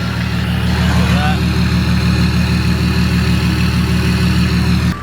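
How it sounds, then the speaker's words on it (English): A diesel engine idles steadily and loud, a continuous low rumble with a regular pulsing throb throughout, and faint background noise above. "The exhaust is sounding friggin' nice as well."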